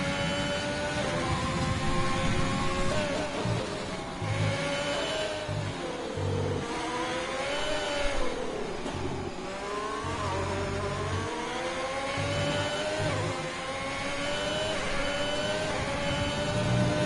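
Formula 1 car engines from the racing game F1 2020 whine at high pitch and rise and fall steadily as they rev through gears at the French Grand Prix, with a loud continuous drone throughout.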